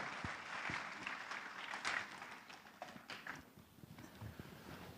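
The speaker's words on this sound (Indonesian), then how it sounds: "Tepuk tangan, Bapak Ibu sekalian." Applause from a festival audience, a soft, fairly distant patter of clapping that gradually thins out over a few seconds.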